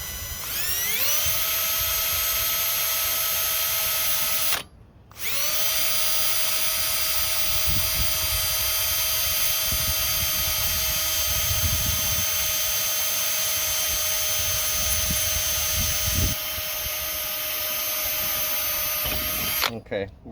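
A power drill whines steadily as it bores a pilot hole just below the lip of a Weber kettle grill, running nearly nonstop with one short pause and speed changes, loud and close.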